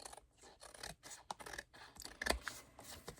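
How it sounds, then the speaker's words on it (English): Scissors trim the edges off a piece of journal ephemera paper, a run of quiet, close snips and soft slicing rasps in an uneven rhythm. "I'm going to trim off the edges"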